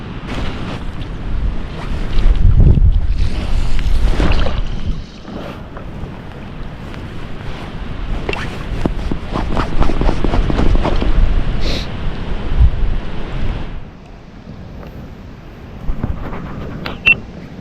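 Gusty wind blowing across a river on a cold salmon fishing beat, loud rushing buffets against the microphone that surge and ease, with quieter lulls between gusts and no speech.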